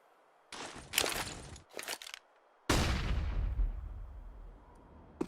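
Gunfire in Counter-Strike, fired blindly into a smoke grenade during a G2 match at DreamHack Masters: two short bursts of shots, then a loud sustained blast that trails off slowly.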